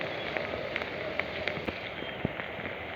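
Light monsoon rain falls steadily as a soft, even hiss, with scattered sharper drip taps landing on a nearby surface.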